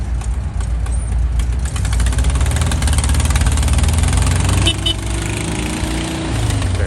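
A classic Volkswagen Beetle engine idles with a steady low rumble, then gets a few blips of throttle near the end, heard close at a car meet with little talk.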